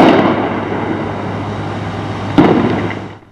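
Fireworks set off by a rioting group at an unauthorized street protest in Cizre, Şırnak, boom loudly in two broad bursts, the second crackling about two seconds after the first, each trailing off into a rumbling wash.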